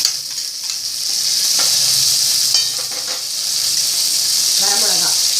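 Green chili, ginger and curry leaves temper in hot oil, a loud bright sizzle hissing steadily from start to finish, broken by a few scraping stirs and a brief burst of spattering near the end.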